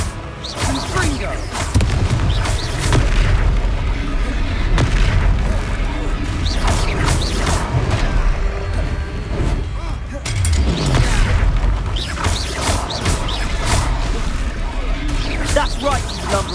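In the Hogwarts Legacy video game, Confringo blasting spells set off loud, booming explosions in a continuous chaotic battle against a giant troll in Hogsmeade, with heavy rumbling impacts and a voice calling out over the din.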